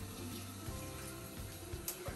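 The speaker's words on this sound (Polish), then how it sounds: "Do naczynia wlać 1200 ml wody." Water is poured into a Thermomix mixing bowl while cooking rice, a faint continuous trickle and splash with small bumps, quiet and close, with no speech over it.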